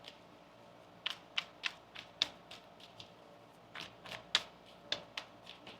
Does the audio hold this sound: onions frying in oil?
no